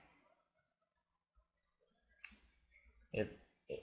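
A computer mouse clicks an OK button in SketchUp on Windows, a few sharp quiet clicks in an otherwise near-silent room with faint low hum.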